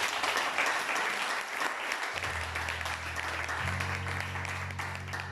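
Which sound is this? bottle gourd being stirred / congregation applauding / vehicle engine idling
congregation applauding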